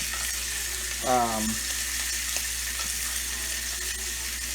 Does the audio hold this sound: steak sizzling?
yes